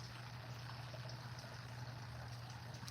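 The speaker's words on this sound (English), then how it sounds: "James, there's a fountain over there." Steady, gentle trickle of water from an algae-filled outdoor fountain, continuous and fairly close, with a low constant hum underneath and no talking.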